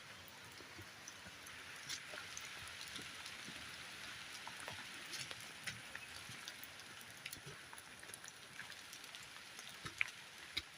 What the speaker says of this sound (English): Okay, so it's officially raining.